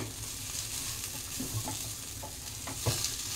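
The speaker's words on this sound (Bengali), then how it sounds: "চাল দিয়ে আবারও আমি 2 মিনিট সুন্দর করে কষে নিয়েছি" Rice being sautéed with spices in a pan for a vetki fish khichuri: a steady close sizzle and frying hiss with a few soft stirring scrapes and clicks, no voices.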